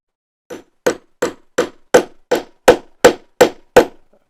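Ten sharp metallic hammer blows on a rivet land at a steady pace, each ringing briefly before the next strike, close and loud.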